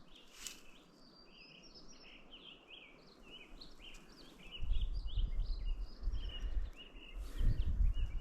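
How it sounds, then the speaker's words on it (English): Birds sing and chirp in trees on a mountain ramble, a busy chorus of small high calls throughout, fairly faint, with wind gusting low underneath. "Wind in the trees, birds in the trees."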